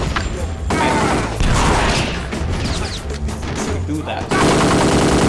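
Enemy gunfire in the shooter game Kingpin: loud, rapid bursts of automatic fire and impacts nearly continuous across the clip, with a brief spoken line over the shooting.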